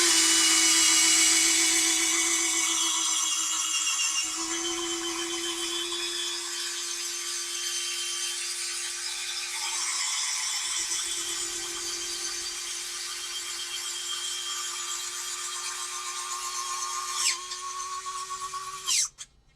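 Folding-wing mechanism on a 1600 mm RC model Corsair, a steady close electric servo whine with a constant hum that holds for most of the run, then a short mechanical clunk as the wings lock and the motor stops.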